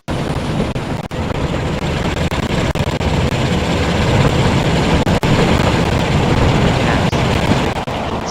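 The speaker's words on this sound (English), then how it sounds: "There's the coal train right now." A long coal freight train in Transport Fever rumbles past steadily, a loud continuous low roar with faint rhythmic clicks, swelling slightly in the middle and holding throughout.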